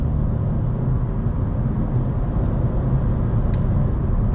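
A 2020 Kia Stonic with its 1.0 t-GDI turbo engine pulls under acceleration, giving a steady, muffled cabin drone with road noise as the turbo comes on, heard from inside the car with no talking.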